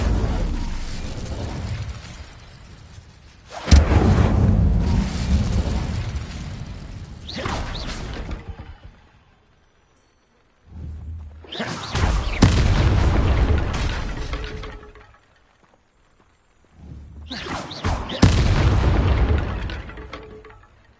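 Incendio fire spell casts in Hogwarts Legacy, heard three times as heavy whooshing bursts of flame with booming low rumbles, loud and close, each roaring for a few seconds before fading, separated by brief quiet.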